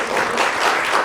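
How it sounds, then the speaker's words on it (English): Audience applause for a guest at a university alumni talk, a dense steady wash of many hands clapping for about a second, loud and continuous with no pauses. "Please, can you give a round of applause for her?"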